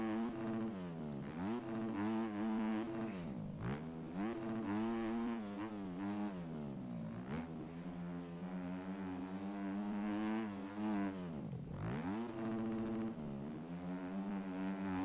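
A motorcycle engine revs hard and steadily through a single lap, climbing and dropping through the gears with short dips where it shifts, loud and close throughout.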